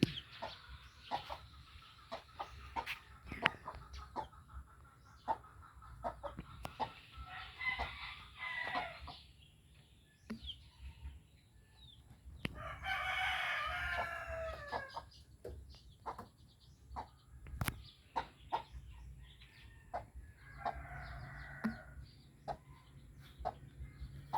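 Chickens cluck softly nearby in scattered bursts, with a rooster's crow rising midway amid faint background rustling.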